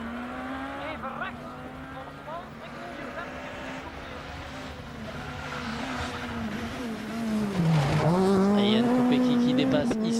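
Jan Kopecky's rally car overtaking on the final special stage of the 2009 Ypres Rally, its engine note climbing and falling through gear changes and swelling loudest near the end, with a commentator talking over it.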